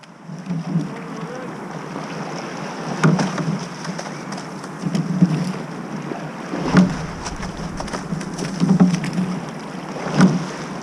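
A rowing eight strokes together on the Marne, the oars catching water in regular rhythmic pulses about every two seconds over wind and a low hum, near and fairly loud.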